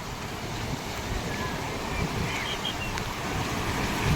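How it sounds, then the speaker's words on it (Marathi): A boat pulls away into the sea off Juhu beach in Mumbai amid a continuous roar of wind and surf, with a faint motor drone and distant crowd murmur blended into the broad outdoor noise. "इकडे बघा एक बोट चालू होते. आता माणसं बसलेत आणि चाललंय आता बोट आतमध्ये समुद्रामध्ये."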